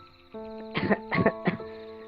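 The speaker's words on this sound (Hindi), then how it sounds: "चिड़िया बहुत ज्यादा खांसती है" Three short, raspy coughing bursts from a high cartoonish bird voice over a steady musical drone, spaced about a third of a second apart.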